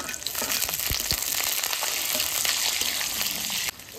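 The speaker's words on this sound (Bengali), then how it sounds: "এবার এই লাউ শাকটা ভাজার জন্য আমি কালো জিরা দিয়ে দিচ্ছি, আর এই যে দেবো রসুন।" Black cumin seeds and garlic fry in oil as a base for bottle gourd greens, a dense close sizzle with occasional pops and stirring clatter that dips briefly near the end, no speech.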